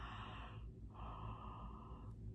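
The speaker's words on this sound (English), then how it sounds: "Can you yawn?" Two long breathy yawns follow one another with a brief pause between them, close and fairly quiet, with no talking.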